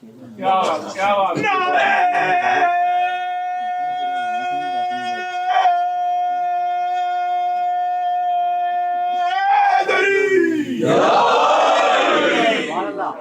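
At a religious lecture, a sustained, strongly voiced chant of a religious slogan holds one note for several seconds, framed by louder bursts of massed crowd voices at the start and end.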